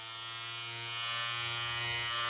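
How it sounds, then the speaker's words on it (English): Electric beard trimmer running: a steady, bright motor buzz that grows slightly louder partway through, close and continuous, with no voices. "That's the noise of a trimmer."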